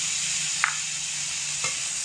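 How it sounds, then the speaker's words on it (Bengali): Chopped tomatoes with turmeric, cumin powder and salt frying steadily in a pan, a soft continuous sizzle with two brief spoon-stirring scrapes against the pan, close and without speech. "সব কিছু একসঙ্গে খুব ভালো করে কষিয়ে নেব।"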